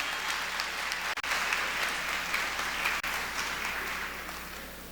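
Sustained, dense applause from a large audience at a university convocation for a gospel choir, steady and moderately loud for about five seconds with no talking.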